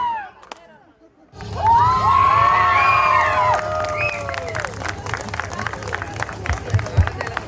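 A crowd bursts into loud cheering and whoops with clapping after a brief quiet start, sustained and lively, with shrill children's shouts mixed in.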